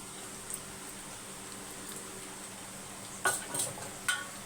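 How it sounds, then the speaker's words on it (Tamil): Capsicum being added to a frying pan and stirred for vegetable fried rice, a quiet low sizzle broken by a few sharp clinks and scrapes of a spoon against the pan near the end. "இப்போ வந்து குடமிளகாவை சேர்த்துக்கலாம்"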